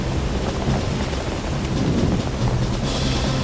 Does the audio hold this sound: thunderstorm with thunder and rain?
yes